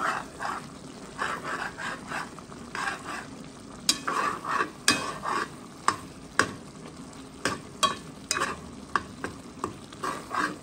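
Bichique fry and tomatoes simmering in a pot for a Réunion-style carry, stirred with repeated scraping strokes over a low bubbling simmer, the spoon knocking sharply against the pot several times, close and fairly quiet.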